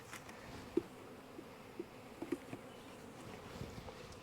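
Honey bees buzz around an open hive while frames are pulled, a faint, steady hum of many insects with a few louder passes of single bees drifting close; no talking.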